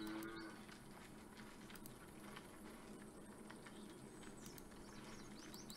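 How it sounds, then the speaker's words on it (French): A cow moos in the survival game Ghost of Nature, one short, low moo right at the start and then a quiet, steady outdoor ambience. "On a notre vache."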